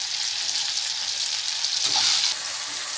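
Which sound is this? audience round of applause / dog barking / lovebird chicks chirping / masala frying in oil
masala frying in oil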